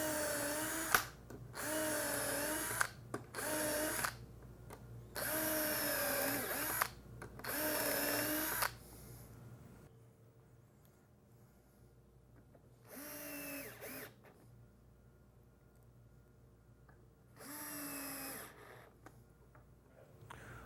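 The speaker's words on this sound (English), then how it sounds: "holding the hinge in place, we're just going to pre-drill for our screws" Several bursts of a power drill whirring at close range, drilling pilot holes for hinge screws on cabinet parts, each lasting a couple of seconds, separated by quiet pauses with faint background hum.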